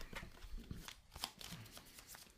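Deck of playing cards being shuffled during a board game of This War of Mine: rapid, quiet riffling flutters and soft slaps, close by, with no talk.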